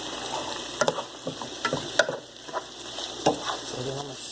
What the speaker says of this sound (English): And then I'm going to stir that up.